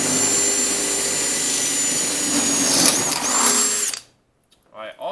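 A power drill whines loudly and steadily up close for about four seconds, its pitch wavering slightly, then cuts off, leaving brief quiet and a voice.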